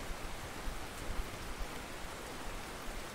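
Steady rain falling in the fishing video game Russian Fishing 4, a soft, even hiss of drops with small patters, heard alone and fairly faint throughout.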